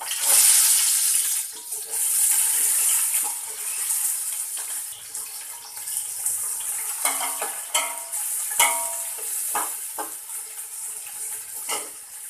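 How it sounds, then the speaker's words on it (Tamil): Chopped onions fry in hot oil for Ambur chicken biryani, with a steady hiss of sizzling broken by scraping, clattering strokes of a spoon stirring the pan. "வெங்காயம் நல்லா பொன்னிறமாக வதங்கணும்."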